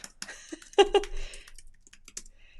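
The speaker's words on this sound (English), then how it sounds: "It's hard to talk and type." Computer keyboard typing, a run of quick clacking keystrokes with a few louder hits, close and moderately loud, with no speech.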